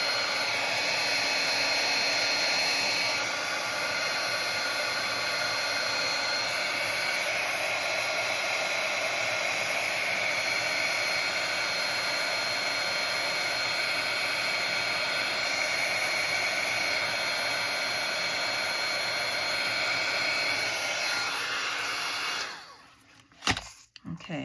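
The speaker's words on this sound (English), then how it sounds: "I hope that heat gun wasn't too loud" Heat gun blasting hot air onto a shiny craft piece, a steady loud broadband roar held close for over twenty seconds before cutting off abruptly near the end.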